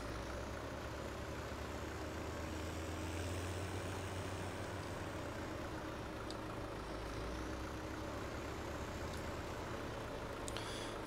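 Steady low diesel drone of a tractor engine in a farming simulator game, a continuous even rumble running throughout with no talk.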